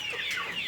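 Desi chickens of mixed breeds on a poultry farm, a brief nearby cluck with a soft throaty tone, short and fairly clear.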